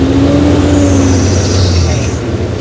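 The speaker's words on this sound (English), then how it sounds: "So we go up to 1900 RPM." Truck engine revving up to about 1900 RPM while being driven with double clutching, a loud close steady drone with a rising whine, under a brief voice.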